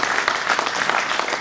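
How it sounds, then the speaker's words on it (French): An audience applauds a local association from the Barumbu commune, dense steady clapping filling the short moment with no voices over it. "Déjà, pour ça, on applaudit pour Barumbu."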